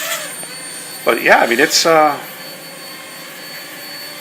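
A small Heli-Max 1SQ quadcopter hovers, its motors giving off a steady high whine that runs under a brief stretch of someone talking nearby.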